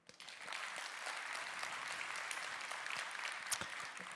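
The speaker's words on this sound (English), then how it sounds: "clap really loudly now" A conference crowd claps loudly on cue, the dense patter of many hands swelling quickly and holding steady for several seconds, with one sharper clap standing out near the end; the sound is fairly distant and low in level.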